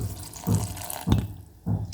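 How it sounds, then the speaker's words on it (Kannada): Water is poured into a pan of radish greens and sprouted green gram curry, with three short splashing bursts separated by brief pauses, close and fairly clear. "ಈಗ ಇದಕ್ಕೆ ಎಷ್ಟು ಬೇಕೋ ಅಷ್ಟು ನೀರು, 1-2 ಲೋಟ ಒಂದು ಅಂದಾಜಿಗೆ ಹಾಕ್ತೀನಿ ನಾನು."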